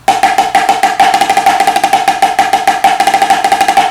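Rapid, flowing triplet strokes on a snare drum, played smoothly in an even slurred rhythm with regular soft accents, loud and close.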